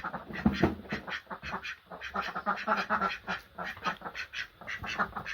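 Ducks quack in a busy, continuous chorus, many birds calling over one another close by without a break.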